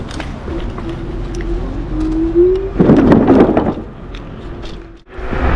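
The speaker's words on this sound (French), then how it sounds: "Ce bourdonnement des pneus semi-off-road." The semi-off-road tyres of an Angwatt C1 electric scooter give off a rising tonal hum while riding, joined by a louder rumbling surge partway through, then a brief dip before the droning resumes.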